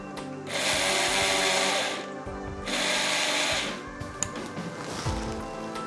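A mixer grinder coarsely grinds soaked urad dal with green chillies in two loud, steady bursts of whirring. A pause separates them, and quieter handling sounds follow.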